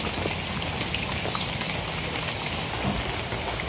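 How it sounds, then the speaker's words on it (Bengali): Heavy rain falls steadily on surfaces during a morning storm, a dense, loud, constant hiss of drops with no pauses throughout. "আজকে বালা বৃষ্টি নামতেছে অন্য দিনের থেকে"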